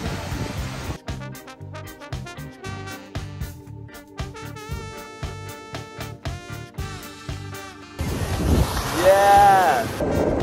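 Ocean surf at Haulover Beach in Miami, Florida rushes in loud and close near the end, mixed with gusty wind buffeting the microphone and a voice, after a stretch of music.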